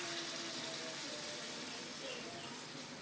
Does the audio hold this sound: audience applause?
no